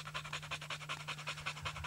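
Hound dogs used for tracking on an African hunt pant rapidly and steadily, a close, rhythmic stream of breathy huffs repeating about eight times a second, with a low hum underneath.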